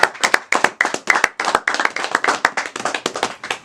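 An audience claps for Madame Maria at a church gathering: a dense, brisk run of hand claps from a small crowd, close and fairly loud, with no talk over it.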